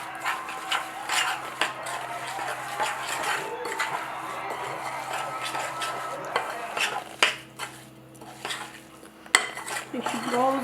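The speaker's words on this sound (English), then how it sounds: "Now we're going to mix it." Apple crisp ingredients with cinnamon get stirred in a bowl, a close run of scraping and clinking spoon-against-bowl strokes in uneven bursts, with a brief voice near the end.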